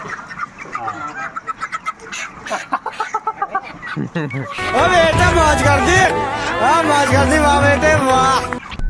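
Broiler chickens crowd a poultry shed holding thousands of birds, rhythmic clucking at first, then a loud, dense chorus of many birds calling at once, close by.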